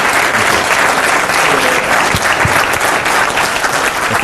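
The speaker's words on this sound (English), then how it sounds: "I want everybody to give David a big round of applause for kicking ass and putting out today" A seminar audience gives a big round of applause, a loud, even wash of many hands clapping at once that holds steady and close throughout.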